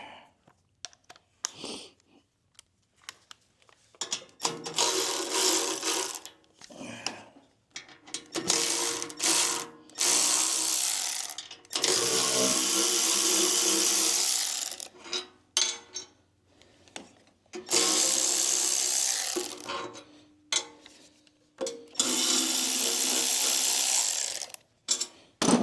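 Bolts on a 1940 Mercury engine mockup being loosened with a ratchet, bursts of fast clicking repeated several times with short pauses between them, close and fairly loud.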